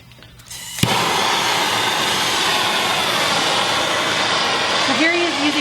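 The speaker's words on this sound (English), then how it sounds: "So here he is using a torch to heat up a cast iron skillet." A torch roars steadily as it heats a cast iron skillet, a sharp click of ignition followed by a continuous loud hiss and rush that holds for several seconds.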